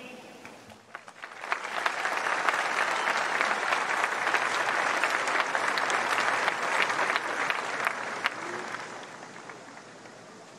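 At the Cypress Woods High School Class of 2020 graduation, the audience claps for three student speakers. A dense, sustained round of applause swells after a quiet start, holds steady, then tapers slightly at the end.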